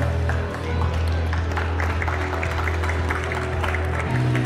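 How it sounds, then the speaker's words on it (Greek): An audience at a women's padel tournament final applauds in a steady, moderate patter of clapping hands, with a low hum and some crowd noise beneath it. "ένα χειροκρότημα εδώ για όλα τα παιδιά"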